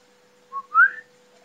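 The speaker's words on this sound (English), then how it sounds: "there's this sort of creepy whistle that the killers" A creepy, rising whistle made by the killers in a slasher film, set in a forest: two short whistled notes, the second sliding upward, clear and alone against near silence.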